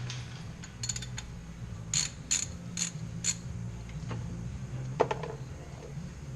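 A breaker bar loosens the oil drain bolt on a 2016 Polaris Ranger ETX, giving a series of close ratcheting clicks and metallic ticks in short bursts over a low background hum.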